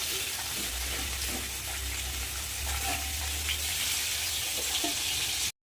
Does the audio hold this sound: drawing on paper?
no